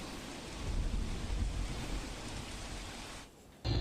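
Rain falls steadily during a storm in Valsad, a dense close hiss of drops on surfaces with low rumbling thunder underneath, briefly easing near the end before surging back.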